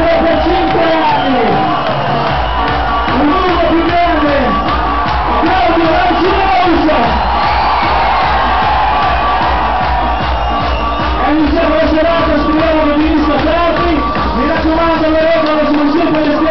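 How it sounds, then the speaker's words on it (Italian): A packed crowd at a Halloween club night cheers, whoops and yells loudly and without a break, a dense wall of voices with no quiet moments. "vogliamo fare un applauso al patrono Mario Casali"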